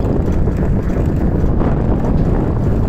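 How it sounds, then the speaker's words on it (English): Strong wind buffets the microphone while riding a Hero Lectro Renew electric bike, a loud, continuous low roar with steady gusting and no voices. "the wind is so strong, it's pushing me back"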